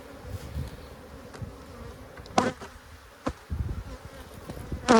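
Bees buzz around a hive being inspected, a close, steady hum of many insects, with occasional clunks and knocks from handling the frames.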